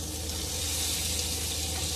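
Cheeseburgers fry in a pan with a steady, close hiss and sizzle, unbroken throughout and moderately loud.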